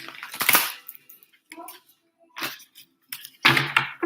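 A deck of tarot cards is shuffled by hand in short, irregular bursts of riffling and slapping, with quiet pauses between them, heard close up.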